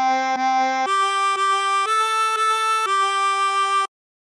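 A reedy harmonica plays a short Twinkle Twinkle Little Star melody of about eight steady notes with bent notes, close and clear, the lower notes sitting slightly flat before a clean stop.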